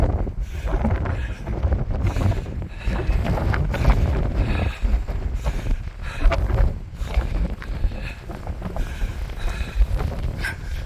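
Strong gusts on an exposed fell ridge batter the microphone in a continuous low roar and rumble, buffeting unevenly throughout with no voices.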